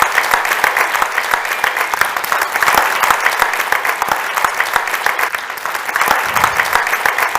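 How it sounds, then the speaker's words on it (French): Audience at a Christmas show in Aigle gives the actors a long, steady round of applause, dense and continuous clapping filling the room for the whole stretch without talk. "appeler les acteurs sur scène et à les applaudir"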